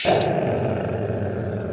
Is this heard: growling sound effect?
yes